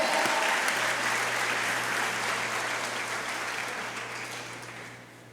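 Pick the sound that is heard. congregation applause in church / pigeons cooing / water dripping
congregation applause in church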